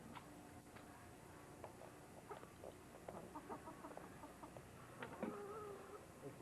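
A rooster and hens cluck and call inside a henhouse, with scattered short clucks and a few brief crowing-like calls over steady low background noise, moderately close.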